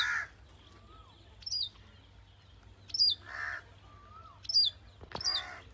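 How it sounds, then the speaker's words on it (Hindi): A small songbird chirps in sharp, high bursts while a crow caws in rough repeated calls, both alternating over a quiet outdoor farm setting under shade trees, clear and fairly close with a low hum beneath. "इस खूबसूरत सी चिड़िया की आवाज़ के साथ साथ ये कौवे की आवाज़ भी आ रही है हमें।"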